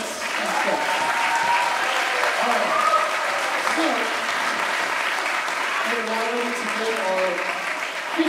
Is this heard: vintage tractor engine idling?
no